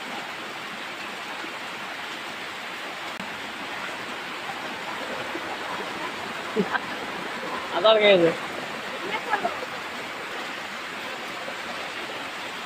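Heavy monsoon downpour pouring steadily in an open area where water has pooled within minutes, a continuous dense hiss filling the whole clip, with brief shouts and voices of boys playing in the rain breaking through midway.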